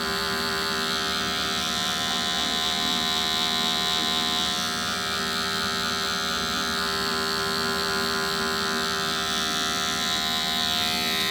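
Electric hair clippers buzz continuously and close up while fading short Asian hair, a steady high-pitched drone with slight shifts in tone as the blade moves through the hair.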